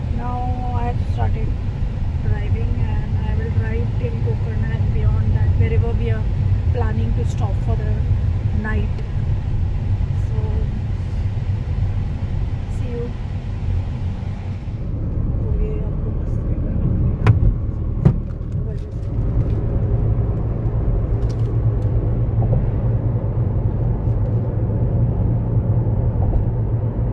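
A car drives along a coastal highway in Karnataka toward Gokarna, giving a steady low engine and road rumble throughout, with a person talking over it.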